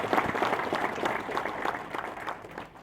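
An audience at an entrepreneur meeting applauds a speaker, a dense crowd clapping that stays moderately loud and then gradually fades toward the end, with no talking over it.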